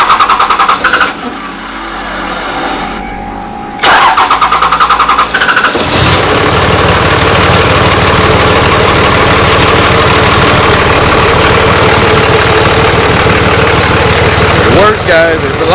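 A 2005 Cummins diesel pickup truck with a tuner, a lift pump and worn injectors cranks over and catches, then idles with a loud, steady, rough diesel clatter up close while a voice speaks over the start.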